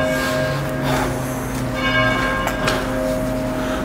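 Church bells ring across a town square in France, their steady tones sustained over continuous street ambience with a few soft breaths and snorts nearby.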